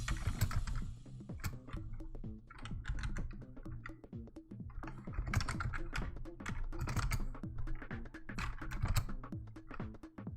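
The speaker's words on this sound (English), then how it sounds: "that's just a lot of typing" Someone types on a computer keyboard while writing emulator code, with rapid, irregular clicks of keys in bursts and short pauses, close and clear, with no talking.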